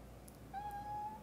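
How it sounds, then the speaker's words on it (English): A cat gives a single drawn-out, tonal meow, close by and clear over a quiet indoor background. "Always the kitty."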